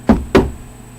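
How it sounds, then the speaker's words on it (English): Two sharp knocks on a door, close and loud, spaced about a quarter second apart, followed by quiet. "knocking on the door"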